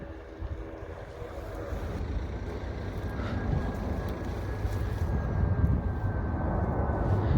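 An EasyJet Airbus A320 airliner on approach, heard from outside on a cold day, as a steady broad jet roar that slowly builds in loudness with a faint whine above it and some wind noise.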